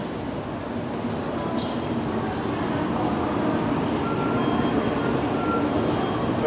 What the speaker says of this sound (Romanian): A, uite că se închid ușile acum.